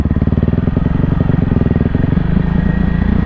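A 2024 Kawasaki KLX300R dirt bike rides off-road over rocks, its single-cylinder engine loud and near with a fast, pulsing thump that rises and falls slightly as throttle changes.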